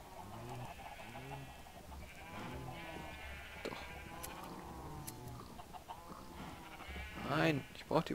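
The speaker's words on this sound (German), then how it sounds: "Habe ich überhaupt noch weiße Schafe?" Sheep in the game Minecraft bleating repeatedly in short, wavering calls, several overlapping at a moderate level, with a voice talking between them.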